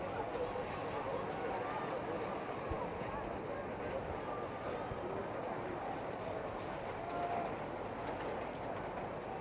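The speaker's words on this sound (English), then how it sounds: "Three trains all going at the same time." Trains rumble past continuously at a rugby ground in Buenos Aires in 1968, a dense, steady roar with no breaks, heard on an old broadcast recording.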